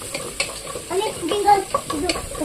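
Onions and mixed vegetables stir-fried in a pan for upma give a steady close sizzle, broken by irregular scraping and clinking strokes of a spatula, with no talking.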